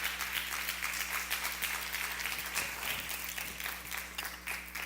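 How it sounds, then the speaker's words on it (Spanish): Congregation applauding the Lord during a church service, a steady continuous wash of clapping from many hands holding at an even level throughout, with no voices rising above it. "Alguien dele un aplauso al Señor esta noche"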